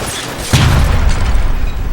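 A single heavy gunshot boom in the video game L.A. Noire, loud and sudden, followed by a sustained low rumbling tail.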